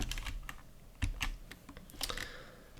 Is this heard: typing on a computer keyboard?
yes